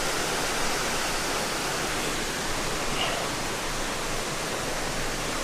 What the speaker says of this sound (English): Some of the waterfalls out here will dry up, but this flow won't stop going.